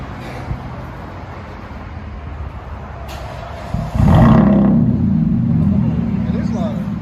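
A 2005 Mazda 6 3.0L V6 with a true dual straight pipe exhaust and 4 inch tips idles with a low rumble, then surges into a loud, sustained roaring rev partway through, close by.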